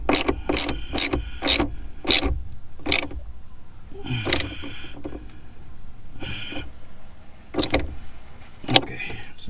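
A battery hold-down in a BMW M235i is tightened with a ratchet, giving a series of sharp, close clicking bursts in quick groups separated by short pauses and faint rubbing.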